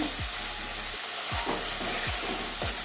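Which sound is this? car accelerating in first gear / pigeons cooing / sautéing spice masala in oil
sautéing spice masala in oil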